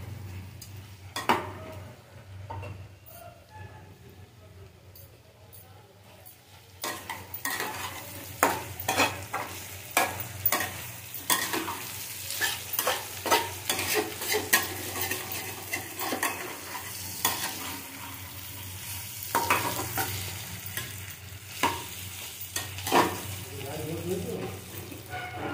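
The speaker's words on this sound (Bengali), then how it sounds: "হলুদের গুঁড়া দেব, মিশিয়ে দেবো, ভালো করে কষিয়ে নেব।" Stirring and sautéing with turmeric in a pan for a stink lily and prawn dish: repeated metal spatula scrapes and clinks over a continuous sizzle, quiet at first, then busier and louder.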